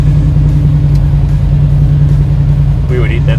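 A 1968 Chevrolet Camaro SS idles close by with a steady, deep V8 rumble, a low continuous drone with a brief higher tone near the end.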